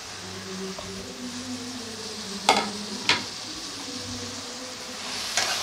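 Chili and turmeric powder frying in oil make a low steady sizzle, with a faint hum in the background and two sharp spatula scrapes in the middle, then a softer third near the end.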